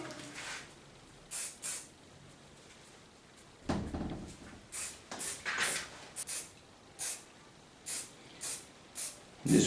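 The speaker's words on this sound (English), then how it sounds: "Just create move in the hair by using a hairspray." Short hiss bursts from a hairspray can hit hair on a bob haircut, coming in quick repeated puffs up close after a longer spray near the middle.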